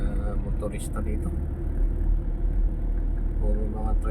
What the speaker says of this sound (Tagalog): Puro mga tricycle at mga motor.